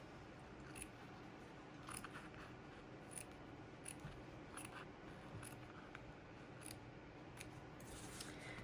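Scissors snipping away excess fabric while mounting a Lizzie Kate cross-stitch piece for a flat-fold finish, a quiet series of regular crisp cuts close up with no talking.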